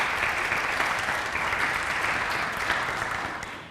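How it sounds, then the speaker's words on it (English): A crowd at a high school recognition ceremony claps steadily for a student, a dense, even roll of applause that fades slightly at the end. "round of applause for Allie"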